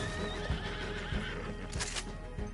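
Horses neigh and whinny in Red Dead Online, a shrill wavering call with hoof clip-clops underneath, over a constant game ambience, moderately loud.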